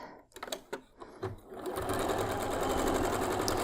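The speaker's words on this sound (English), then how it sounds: "we're going to sew this middle section to the rest of it" A sewing machine joins the middle section of a churn dash quilt block to the rest, with a few slow needle thumps at first that build into a loud, fast, steady stitching whir close by.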